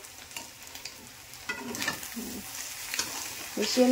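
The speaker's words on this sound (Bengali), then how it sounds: "এইবার আমি এটাকে ভালো করে মিশিয়ে নেব" Maggi noodles being stirred and mixed in a pan, with scraping strokes of a spatula over a soft sizzle, several irregular pushes and a brief metallic ring at the end.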